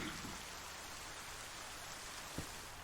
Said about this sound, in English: The rain feels quite nice for the moment.